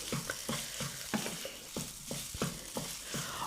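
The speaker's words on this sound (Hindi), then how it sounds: "तो चलिए इसको अच्छे से हम मिक्स कर लेते हैं।" A spoon stirs and mixes spices into a homemade snack mixture in a pan, with regular scraping strokes repeating at a steady rhythm over a soft sizzle, close and fairly quiet.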